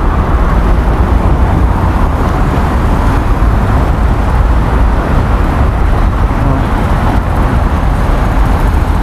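City car traffic flowing along Avenida do Estado in Balneário Camboriú, a steady broadband roadway rumble with engines and tire noise from several vehicles, fairly loud and continuous, no talking.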